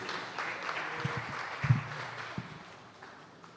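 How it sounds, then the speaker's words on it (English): Audience applause at a peace coalition project launch event, a moderate, fairly distant patter of clapping hands that swells briefly and then tapers off. "Give him a big round of applause as he comes,"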